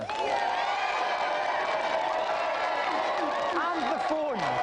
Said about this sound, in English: round of applause for our special guest, Ronnie O'Sullivan.